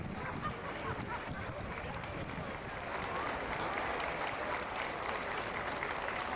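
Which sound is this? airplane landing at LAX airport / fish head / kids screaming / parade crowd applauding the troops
parade crowd applauding the troops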